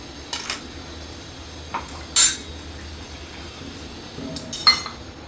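A few separate metallic clinks and scrapes of a spoon against a pot as ground coconut and mango paste is scooped in, spaced out over a quiet background, with a louder knock near the middle.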